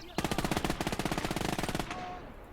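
Rapid sustained machine gun fire in the World War II strategy game Gates of Hell, a loud, close burst of evenly spaced shots lasting well over a second before cutting off into a fading echo.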